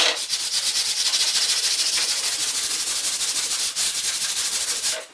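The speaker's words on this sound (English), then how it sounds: "Notice that my sanding strokes are at a slight diagonal, and this diagonal is sort of perpendicular to the saw marks" Sandpaper on a sanding block rubs back and forth along a pine baseboard cove in quick, even diagonal strokes, close and continuous with a rhythmic rasp.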